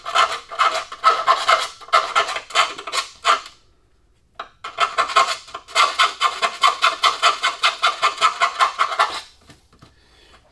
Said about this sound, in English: I like take a little half moon file. Get some of the sharp burrs out.